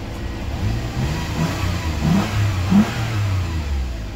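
A Toyota Alphard engine, just fitted with a new steering lock program after a no-crank, no-start fault, runs and revs up close, a loud droning roar that rises and falls in a few throttle swells.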